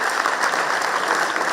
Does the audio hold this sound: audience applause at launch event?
yes